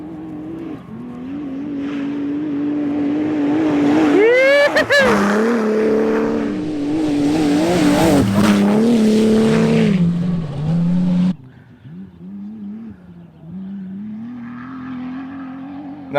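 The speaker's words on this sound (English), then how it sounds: "Here comes the buggy." An off-road buggy crossing the Simpson Desert roars past up close, its engine rising and falling in pitch with a sharp Doppler sweep around the midpoint before cutting off abruptly, followed by a quieter rumble in the distance.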